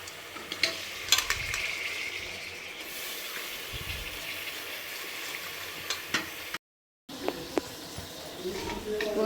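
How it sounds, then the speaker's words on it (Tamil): Chicken pieces stirred into masala in a hot pan: a steady sizzle of frying with scraping stir strokes and occasional knocks, a brief gap partway through, with faint voice nearby. "சிக்கன் நல்லா வந்து கிண்டிக்கலாம் இதோட மசாலோட சிக்கனை நல்லா திரட்டிக்கலாம்"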